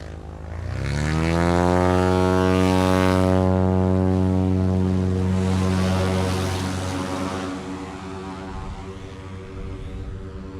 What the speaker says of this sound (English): That tail wheel came down, the airplane didn't come off the ground, even though he added full flaps into the mix.